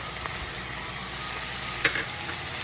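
Fried rice with soy sauce and garlic powder sizzling in a pan, a steady broadband hiss running throughout with a brief sharper crackle near the end, close and fairly quiet, no talking.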